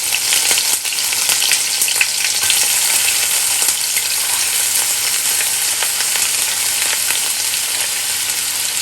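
Chopped onions fry in a pan with garlic paste for Cajun chicken mini pizzas, giving a loud, continuous close sizzle with crackles and occasional stirring scrapes, and no talking.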